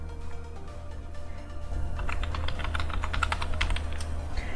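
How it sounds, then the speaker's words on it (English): Username and password typed on a computer keyboard, quiet start giving way to a rapid run of light key taps, close and steady over a low hum, no voices. "I'm going to type my username and password"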